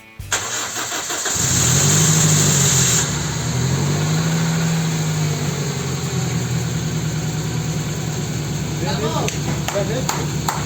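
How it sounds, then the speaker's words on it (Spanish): A Toyota Celica engine cranks briefly and catches, then settles into a steady, smooth idle that runs loud and close for the rest of the clip, with a few faint clicks and a voice near the end. "milagrosamente el coche arrancaba, pero no solo eso, sino que el motor sonaba muy fino"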